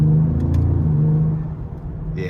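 A 2025 Ford Explorer ST with a twin-turbo V6 accelerates with a loud, close, steady engine drone and road rumble that eases off near the end, ending in a faint high whine.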